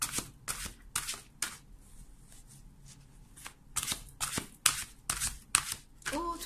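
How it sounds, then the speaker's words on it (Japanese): Tarot cards are shuffled by hand in a series of crisp, riffling bursts, some brief and some longer, with short quiet gaps between them. The sound is close and fairly soft. "もう少しシャッフルします"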